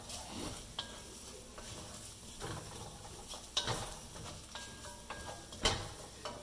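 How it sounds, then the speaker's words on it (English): A Cajun pork chop mixture with shallots is stirred in a pan, a spoon scraping and clinking against the metal in intermittent strokes over a steady, quiet sizzle. "I'm going to stir that in and let that cook"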